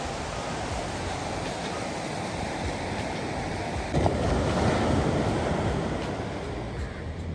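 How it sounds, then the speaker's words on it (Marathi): Sea waves wash onto a quiet Konkan beach in the morning, a steady broadband roar of surf with wind buffeting the microphone, swelling slightly midway, with no voices. "सोबत या समुद्रांच्या लाटांचा आवाज खूप छान"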